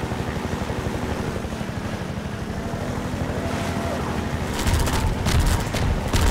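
A helicopter in Half-Life 2 thrums with steady rotor chop and engine drone, close and loud, and a burst of sharp gunfire-like bangs joins in near the end.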